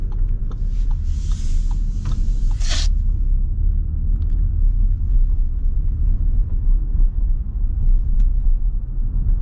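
A 2024 Audi Q7 luxury SUV cruising on the road, with a steady low engine and tyre rumble throughout and a brief airy whoosh near the start.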